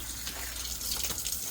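Tie-dyed fabric rinsed under a running tap, a steady close rush of gushing water splashing into a sink, heard on its own without voices.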